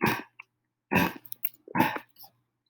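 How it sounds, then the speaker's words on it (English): A dog with an upset belly after eating a small bone makes three rough, cough-like heaving bursts, each separated by quiet pauses, close and fairly loud. "You're hearing my dog in the background."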